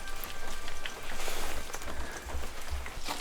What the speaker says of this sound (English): It has been raining heavy now for 3 days, so it's quite wet.